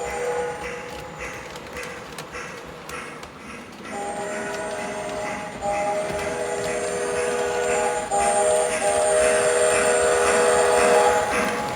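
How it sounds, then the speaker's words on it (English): A 1924 steam locomotive hauls a Strasburg Railroad passenger train, its steady rumble and clatter loud and continuous, with sustained whistle-like tones rising from about four seconds onward and no talking. "The steam locomotive pulling our train today was built back in 1924"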